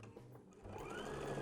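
A sewing machine stitching ribbon along a drawn line while making sanitizer holders, a steady whirring motor hum building and running continuously, fairly quiet and close, with no talking.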